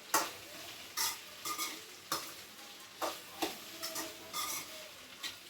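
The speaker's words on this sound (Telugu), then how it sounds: "బెండకాయ అయితే మధ్య మధ్యలో కలుపుతూ ఉండాలి. ఫ్రై అనేది మంచిగా అవుతుంది." Okra being fried and stirred in a pan over a low flame, with close, repeated scraping strokes of a spatula about once a second over a soft sizzle, and no talking.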